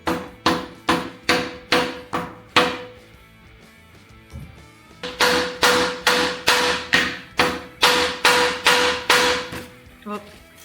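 A hand hammer from Ace strikes metal repeatedly during a 1984 Big Twin Evo chopper build, loud evenly spaced taps in two bursts separated by a short pause, with a faint ringing tone under the blows.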